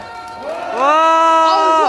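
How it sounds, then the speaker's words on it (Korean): A crowd at a Korean labour union rally raises a loud, sustained shout of cheering voices that swells after a quieter start. Clapping is not clearly separate from the voices. "조금 높게 다시 한번 힘차게 한번 박수 한번"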